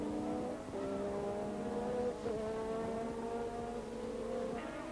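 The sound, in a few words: 1984 Formula 1 race cars at French Grand Prix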